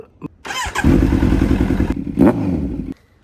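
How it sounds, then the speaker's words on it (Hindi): Kawasaki Z900 motorcycle engine running nearby, a loud steady idle with a low rumbling pulse, joined by a couple of short clattering knocks before cutting off abruptly. "तो यही सामने खड़ी है कावासाकी Z900"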